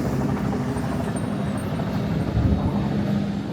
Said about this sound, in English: You got news helicopters flying over.